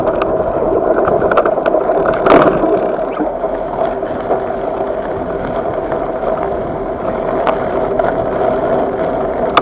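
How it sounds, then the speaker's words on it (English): Strong wind roars steadily across a snowy trail during a ride, a loud, broad rush with gusty buffeting on the microphone and a sharper burst about two seconds in; no one speaks. "So the wind is blowing in this trail quite a bit"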